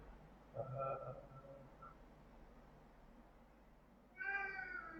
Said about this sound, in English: Thing you hear behind is a very, very noisy cat.